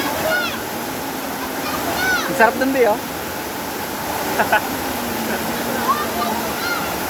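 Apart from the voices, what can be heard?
Sprite Falls waterfall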